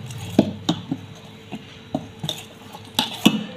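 A spoon stirs black-eyed pea dosa batter in a metal bowl with scattered, uneven clinks and scrapes. The bowl knocks sharply now and then, close up, with no talk.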